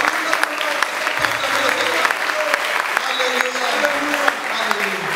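A church congregation applauding and cheering, a dense sustained roar of clapping with raised voices mixed in, loud and continuous throughout.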